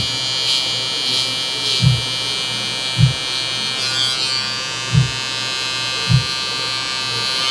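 Electric hair clippers lining up a low taper, a steady buzz running throughout with a few short, louder bursts recurring about once a second.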